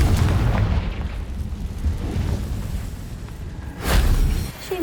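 A Confringo blasting spell explodes in Hogwarts Legacy with a loud, rumbling boom over steady low game noise, and a sharper burst flares near the end.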